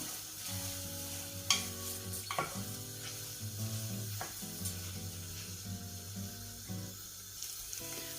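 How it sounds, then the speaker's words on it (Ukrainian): Rice stirred in a hot pan for Odesa-style mussel pilaf, giving a steady frying sizzle with scraping stir strokes and a few sharper clicks, close and alone. "Далі додаємо наш рис. Трішки змішуємо."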